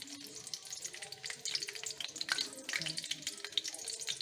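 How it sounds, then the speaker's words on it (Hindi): Garlic frying in a pan for fried rice, a soft crackling sizzle with scattered pops and sputters, fairly quiet and continuous. "ये देखिए लहसुन डाल दिया, लहसुन ज़रा सोते हो जाएगा"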